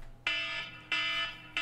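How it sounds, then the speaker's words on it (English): A timer alarm sounds in three short, loud electronic beeps at a regular pace, close by in a quiet room. "Yep, timer's done."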